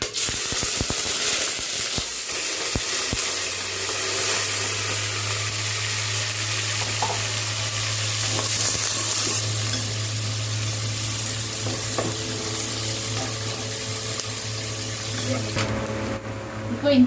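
Onions sizzling steadily in hot oil in a pot for chicken biryani, a continuous close frying hiss with faint clinks, no talk over it.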